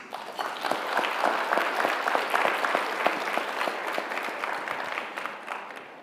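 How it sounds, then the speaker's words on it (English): Sustained audience applause for award honorees at an awards ceremony held during an annual professional meeting, dense steady clapping from a large crowd with no one speaking over it. "Let's give a big round of applause to all of tonight's honorees."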